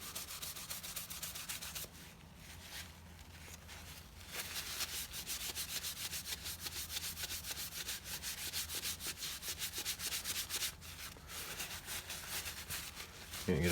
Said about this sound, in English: speed and heat as you're buffing, and that'll help to drive it into the timber